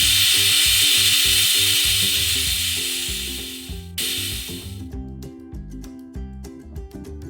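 A pressure cooker whistling while mutton cooks: a loud, steady hissing steam whistle that slowly fades and cuts off abruptly, then a sharp short burst, with background music running underneath.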